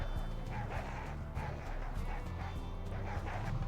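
Repeated dog barks from the video game Rimworld, mixed into a busy game soundtrack with layered background noise and low tones throughout.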